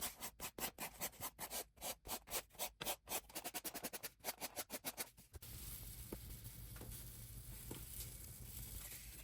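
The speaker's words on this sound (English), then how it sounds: "used the needle file to shape them" Needle file rasping over a carved stem for an epoxy table, first in rapid rhythmic strokes and then settling into a steady continuous scratchy rasp, close up.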